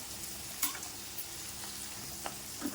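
Soft, steady frying sizzle of beans and carrots sautéing for kichadi, with occasional stirring scrapes and clicks of a utensil against a pan, fairly quiet and without speech.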